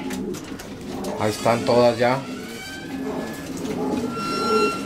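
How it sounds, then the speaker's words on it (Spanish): Pigeons cooing in a loft as a flock returns from a training flight, soft repeated coos and bird calls over several seconds, with someone talking over them. "las palomas"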